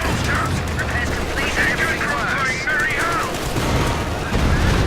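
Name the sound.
gunfire from units in the video game Company of Heroes 2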